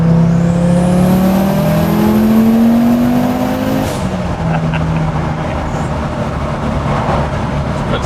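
An Audi S2 Cabriolet's 510 bhp five-cylinder turbo engine revs up hard with a rising, warbling tone and a turbo whistle climbing above it, then eases off after a few seconds into road noise.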